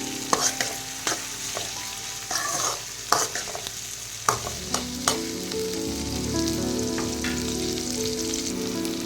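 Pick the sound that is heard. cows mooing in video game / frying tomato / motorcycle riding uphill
frying tomato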